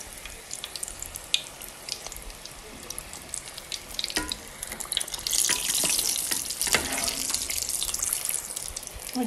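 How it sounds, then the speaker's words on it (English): Samosas frying in hot oil give a steady crackling sizzle with scattered pops, growing louder and hissier about halfway through, heard close with no talking. "We're going to fry these until they're nice and golden brown"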